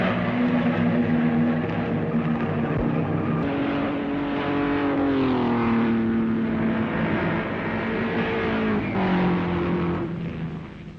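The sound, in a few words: 1962 racing cars racing on a circuit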